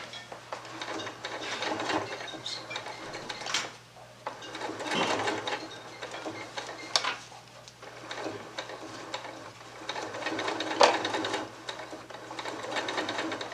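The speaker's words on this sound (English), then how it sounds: "Stitching right on the edge." A sewing machine stitches along a prepared appliqué edge in bursts of fast, rattling mechanical chatter with brief pauses between runs, close and fairly loud, no speech over it.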